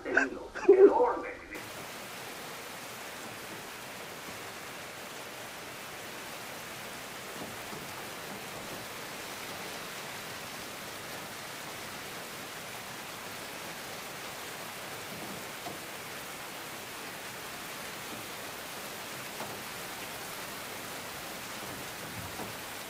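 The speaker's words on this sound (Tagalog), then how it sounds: "Di tumitigil yung ulan, no?" Steady rain falls as a continuous, even hiss that stays constant throughout, with a brief louder burst at the very start.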